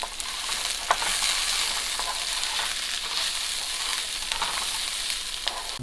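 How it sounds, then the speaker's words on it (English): White mushrooms, white onion and green sweet peas stir-frying in a pan give a steady, close, fairly loud sizzle. Occasional stirring scrapes break through the sizzle, and no one speaks. "we will stir fry these guys for 5 minutes. So we have white mushrooms, white onion and the green sweet peas."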